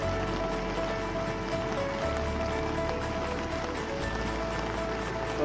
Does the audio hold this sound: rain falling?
yes